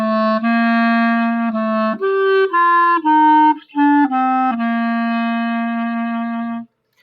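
A single sustained brass note played on a valved instrument using the middle valve, steady and clear for about six seconds with a few brief breaks and slight pitch changes, alone with no voices.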